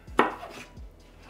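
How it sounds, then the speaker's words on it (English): A knife chops vegetables for cauliflower tacos on a cutting board, with one sharp close chop followed by a softer second cut a moment later. "I'm just gonna cut these up into little"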